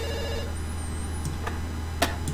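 Telephone ringing inside the game Dr. Langeskov, The Tiger and The Terribly Cursed Emerald, a brief ring fading out early, followed by a few faint clicks and taps over a constant low hum.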